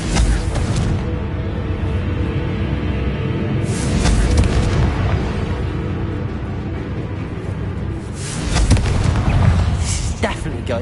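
Confringo fire spell explosions in the video game Hogwarts Legacy, loud booming bursts layered over continuous rumbling game audio, swelling around four and nine seconds, with a voice shouting over it.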